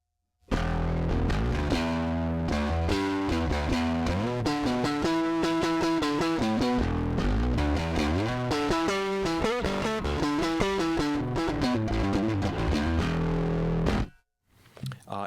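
A Rickenbacker electric guitar with Rick-O-Sound, played through its bridge pickup with heavy distortion, rings out in a continuous run of loud, sustained chords and notes before cutting off abruptly near the end.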